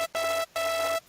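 Serum software synthesizer waveform in sync warp mode set to +3, a bright, buzzy sustained tone with a low drone beneath, played as two held notes separated by short gaps.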